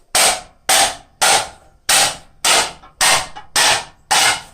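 Eight evenly spaced, loud metallic strikes ring out as scrap copper is hammered on a blacksmith's anvil, each blow decaying briefly before the next.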